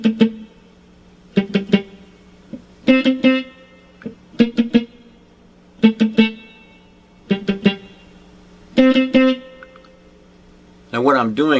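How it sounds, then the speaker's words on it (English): Picked electric guitar figure for the verse of a song, short bright note clusters in rhythmic bursts separated by brief gaps, played alone and up close, with a strummed chord at the end. "During verse 1, guitar 2 will do some picking that sounds like this."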